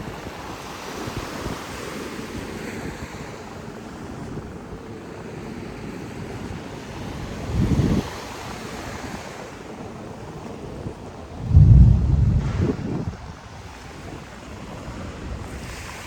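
Sea waves wash onto the reef-protected shore at Sanur, Bali, with gusting wind buffeting the microphone; a steady low surf roar rises into two heavier surges midway.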